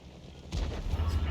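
A tank cannon in an online tank battle game fires back: one sudden deep boom partway through, followed by a heavy low rumble that carries to the end.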